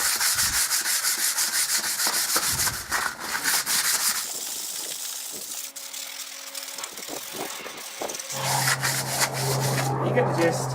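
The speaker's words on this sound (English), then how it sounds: "A150 sandpaper." Hand sanding with A150 sandpaper on a mono-wheel trailer hitch part, steady rhythmic scratchy strokes close up, pausing midway for a hum and brief quiet, then resuming with a faint engine drone.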